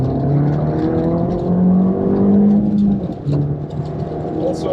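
An Abarth F595 engine, 165 hp, in Scorpion sport mode, hums and revs steadily up close, its tone rising and dipping with a throaty, aggressive edge and no talking over it.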